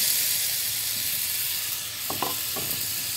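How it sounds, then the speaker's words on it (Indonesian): Ground spice paste and onion sauté in a hot pan for a minced-meat dish, giving a loud, steady sizzle with a few clinks of a utensil stirring near the end. "Kita akan menumis bumbu yang tadi sudah dihaluskan. Dan kita masukkan bawang bombay."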